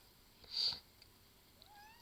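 Indoor cat meowing to be fed, one short, clear meow in the middle, near and moderately loud over a quiet room, followed by faint rustling, with no talking.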